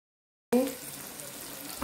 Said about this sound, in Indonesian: Bombaynya sedang digoreng, saya pakai minyaknya agak banyak